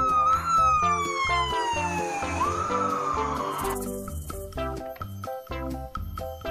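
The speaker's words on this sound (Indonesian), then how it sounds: "mobil polisi" A toy police car's electronic siren wails in a falling and rising sweep, then gives way to a beeping electronic jingle with a steady beat, fairly quiet and with no talking.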